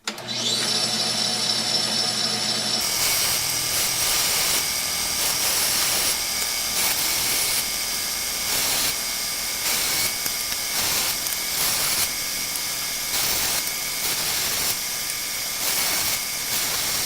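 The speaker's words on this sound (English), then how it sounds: "All right, bandsaw time." Bandsaw whining steadily as it cuts mahogany pieces for a 13-sided oval mirror frame, loud and close with a continuous high tone and faint variations as the blade bites the wood, no talking.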